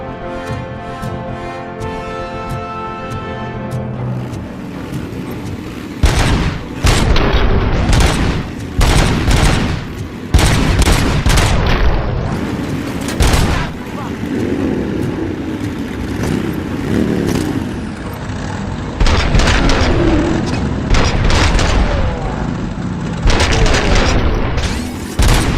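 Loud bursts of gunfire and heavy booming explosions from the video game Robocop Rogue City, repeated volleys over about twenty-five seconds with brief gaps between clusters.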